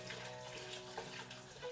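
Port wine pours into a pot with a soft, steady trickling splash lasting under two seconds, faint and close, with no talking.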